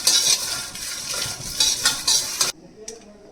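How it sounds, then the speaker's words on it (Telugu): Dry coconut fries in a pan while a spoon stirs it, giving close, busy scraping and clinking over a soft sizzle. The sound stops abruptly near the end, leaving a single faint clink. "ఎండు కొబ్బరి వేసుకొని ఫ్రై చేసుకోవాలి"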